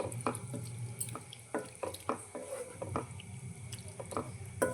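Water being poured into a pan of broad bean and tomato curry, giving uneven splashes and drips with some clinks in a quiet kitchen, fairly faint, with no voices.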